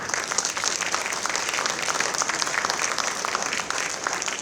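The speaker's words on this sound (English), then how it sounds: "Please make applause for him." A crowd at a college crossword competition prize ceremony applauds steadily, dense even clapping throughout with no break.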